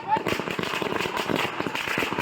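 Firecrackers set off by celebrating supporters at an ancestral home in Manikapur pop in a dense, rapid string of sharp cracks, loud and continuous throughout.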